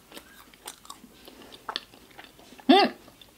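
Someone eating taro mochi ice cream close to the microphone, with soft sticky chewing and small mouth clicks, then one loud, sharp bite near the end.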